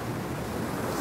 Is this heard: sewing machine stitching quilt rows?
no